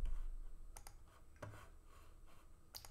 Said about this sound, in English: So I'm going to type Python 3, and it's going to take me into the CLI